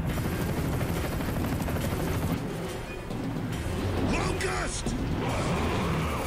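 Helicopter in the Gears of War video game, a steady rotor and engine drone with mechanical clatter and bursts of gunfire, fading briefly midway before swelling again.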